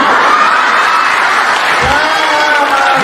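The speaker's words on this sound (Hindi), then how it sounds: "ये ताली बच्चे ही बजाएंगे क्योंकि उनका दिल साफ है" An audience claps at a Hindi comic poetry recital, a dense, continuous patter of applause with a voice talking over it.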